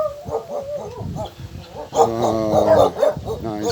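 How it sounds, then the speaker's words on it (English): A dog barks and whimpers close by in an abandoned Serbian village, with a person talking over and between the yips. "Wow, nice little doggy."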